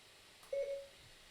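A single short Siri activation tone, a brief clean electronic chime standing alone against near silence.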